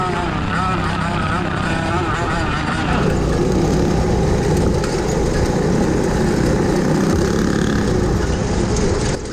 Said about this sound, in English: Chris is making moves on his YZ85 powered shifter cart